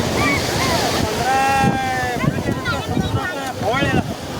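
Strong ocean waves surge onto Suruchi Beach at sunset in a loud, continuous wash mixed with wind buffeting, as people talk and call out over the surf.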